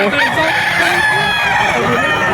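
Roosters crowing at a pet market selling chickens, overlapping drawn-out calls close by against a lively, noisy crowd background.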